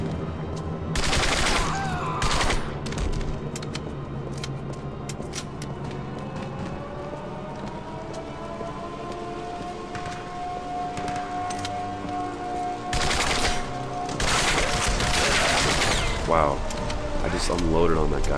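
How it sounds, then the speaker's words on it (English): Bursts of automatic gunfire in the PC shooter Turning Point: Fall of Liberty, loud close volleys in clusters separated by quieter stretches of game sound. "Running around shooting the guys that are spawning directly behind me."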